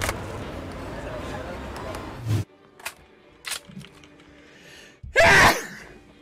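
A person sneezes loudly once, a sharp close burst near the end after stretches of room chatter and faint background noise; people talk before it.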